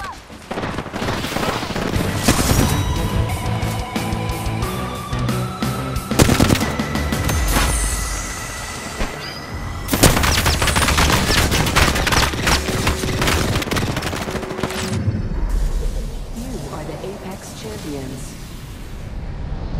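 Sustained automatic gunfire with repeated bursts and explosive booms during an Apex Legends Season 20 match played as Caustic, loud and dense throughout with chaotic game effects layered on top.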